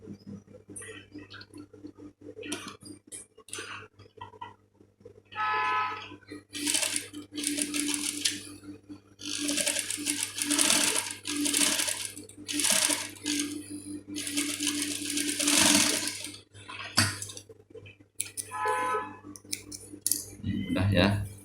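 A sewing machine stitching children's clothes runs in repeated short bursts of rapid mechanical chatter, stopping and starting under a steady low hum, with someone talking between the runs.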